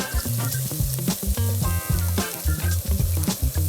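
Grated carrot sizzles and crackles in a couple of tablespoons of hot oil for a spaghetti bolognaise. The frying is close, continuous and busy, with irregular pops and some stirring, and no voices.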